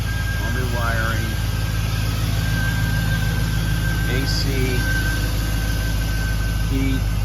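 A 1953 Chevy 3100 pickup truck with an LS engine idles with a steady low exhaust rumble throughout, while someone speaks briefly over it at close range.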